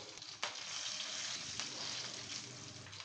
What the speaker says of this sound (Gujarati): અહીં આપણો વઘાર એકદમ સરસ કકડી ગયો છે.